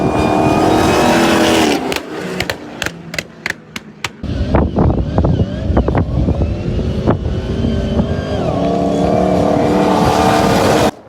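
A modified 1000 HP Jeep Trackhawk roars across sand dunes during a race, its engine loud and close, with sharp revving bursts and throttle cuts followed by a sustained, powerful drive.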